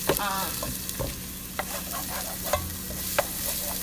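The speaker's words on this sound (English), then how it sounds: "we want to keep stirring this frequently because we do not want the garlic to burn" Garlic simmering in a pot for curried butternut squash soup, stirred often: a steady low sizzle with a spoon knocking and scraping the pot every second or so, close and clear.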